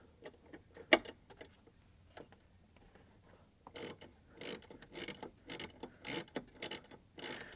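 A hand tool clicks and ratchets while tightening a spring compressor on the front door check link of a GM OBS Chevy or GMC truck, first with faint scattered ticks, then a series of short, crisp ratcheting bursts up close.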